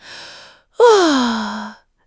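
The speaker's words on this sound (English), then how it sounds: "Maybe a big yawn." A big yawn on waking, an open breathy inhale followed by a long, loud, falling voiced exhale, heard alone and close.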